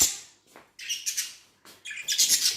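A pet canary chirps in short, bright bursts, with a rapid twittering phrase, a pause, and another busier flurry of high notes, heard up close with no talk.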